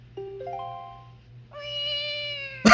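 In The Legend of Zelda: The Wind Waker, a character's voice imitates a cat with a drawn-out, tonal meow after a few short rising chirps, ending in an abrupt burst of noise.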